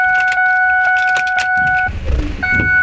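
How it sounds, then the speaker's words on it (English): Ignition key turned to on in a Ford 6.0 Powerstroke diesel truck: steady warning chimes ring, then a low rumble and whir from the truck follows, with the chimes returning near the end, all close up. "I'm gonna turn the key on"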